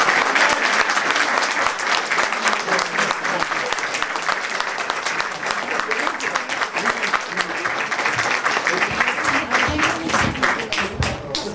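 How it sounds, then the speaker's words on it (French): Steady, dense audience applause fills a small Café Bavard talk-café gathering, holding evenly loud from start to finish with no voices above it. "Un grand applaudissement."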